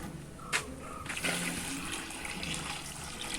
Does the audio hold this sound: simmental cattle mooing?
no